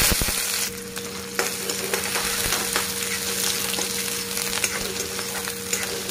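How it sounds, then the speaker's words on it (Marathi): Chopped onion frying in hot oil with whole spices for a Marathi vajdi (tripe) dish, a steady dense sizzle throughout with a few stirring clinks near the start, no voices. "कांदा छान तळून घ्यायचा लाल कलर येऊपर्यंत।"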